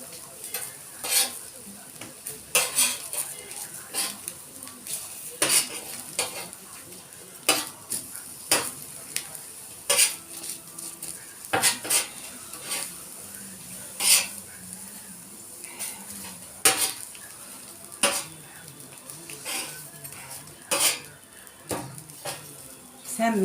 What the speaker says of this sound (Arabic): سمنة عمال ينز ناز.